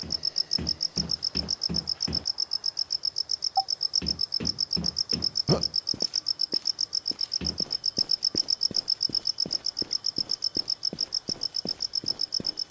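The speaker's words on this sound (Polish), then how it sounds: "Świerszcze się odzywają." Crickets chirp nonstop in the Infestation: Survivor Stories game, a dense high trill running throughout, with a rhythmic pulsing thump underneath and no talk.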